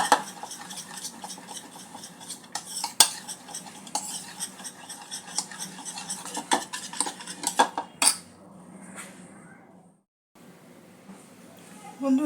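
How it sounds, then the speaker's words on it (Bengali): Ghee and white oil being mixed in a bowl with a spoon, making repeated clinks and scrapes against the bowl, with a voice talking throughout and a short pause near the end. "ঘি আর তেলটা একটু ভালো করে মিক্স করে নেব"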